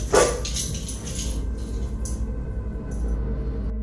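A dog gives a sharp bark or yip near the start, then restless whimpering and shuffling under a steady low background hum, fairly close.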